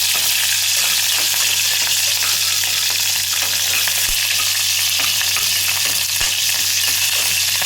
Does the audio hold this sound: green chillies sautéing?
yes